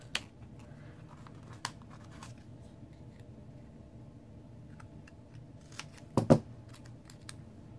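Scissors snip through paper strips being cut into thirds for paper party favors, a few sparse, quiet clicks followed by a brief louder cluster of snips near the end, with no talking.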